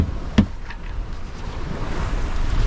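Steady wind over open ocean while sailing across the Pacific, a continuous broad rush of air with surf-like swells and microphone buffeting, one sharp knock early on, no voices.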